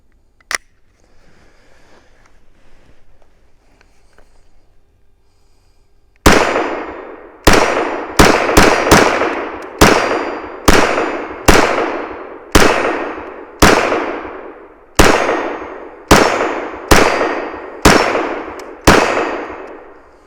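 A Walther WMP .22 pistol emptying a full magazine outdoors, about a dozen loud, sharp cracks with ringing tails at a steady pace after a quiet start with a single faint click.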